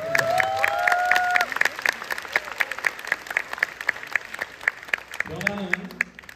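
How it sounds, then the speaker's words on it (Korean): At a Korean conference lecture, an audience claps in a crisp, rapid patter for several seconds, with a voice speaking briefly at the start and again near the end. "여러분 스스로를 위해서 진짜 박수를 한번"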